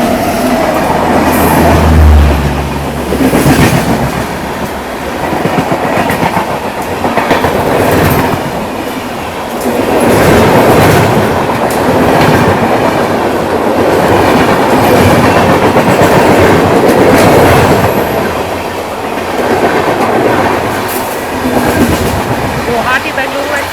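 Aboard the Amrit Bharat Express near Katpadi Junction, loud close rumbling and rhythmic clickety-clack fill the air as other trains pass alongside, with steady rolling noise throughout.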